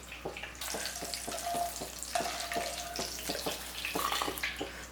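Cauliflower, dried red chillies and curry leaves frying in hot oil, giving a steady hissing sizzle with regular soft scraping strokes of stirring throughout.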